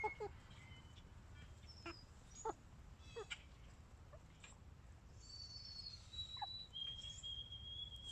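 Backyard chickens (chooks) cluck and squawk in a garden, quiet scattered calls and short high notes spread across the recording, with low background rumble and no talk.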